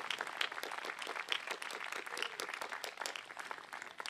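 A crowd applauds a fill-in bassist at an outdoor live concert at Wolfe Park, Minnesota, producing a steady, fairly faint wash of many hands clapping throughout with no talk.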